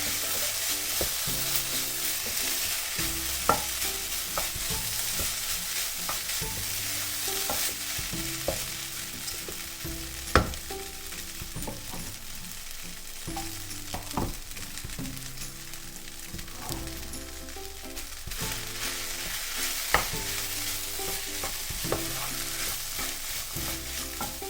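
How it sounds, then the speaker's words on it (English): Seasoned rice frying in a pan gives a steady, loud sizzle throughout, broken by repeated scraping and knocking strokes as a utensil stirs it, with no talking. "Then I stir, just to make sure every bit of the rice gets seasoned properly."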